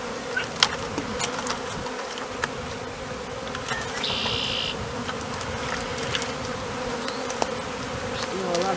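A dense, steady buzz of many honey bees swarming close by during a swarm capture, continuous throughout with a brief higher whine partway through.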